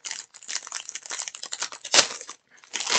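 Crinkly plastic packaging holding hair clips torn open up close during a Colourpop makeup unboxing, a busy run of loud crackles and rustles with one sharper tear and a brief pause near the end.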